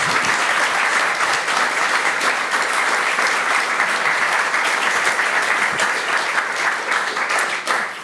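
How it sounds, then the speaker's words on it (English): A conference audience gives a panel a warm round of applause, with loud, dense, sustained clapping from a large crowd that continues steadily before tapering slightly at the end. "Can I have a warm applause for this panel?"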